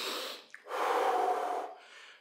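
Heavy breathing during a beginner toning workout with weights: a short exhale, a quick sharp sniff, then a long, loud, steady breath out, all close to the listener with no speech.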